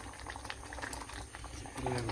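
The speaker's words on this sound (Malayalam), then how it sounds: "പുളിവെള്ളം നന്നായി തിളച്ച്" Tamarind water for a spicy Kerala sardine curry bubbles vigorously in a pan, a close, continuous gurgling boil that thickens near the end, with a voice speaking over it at times.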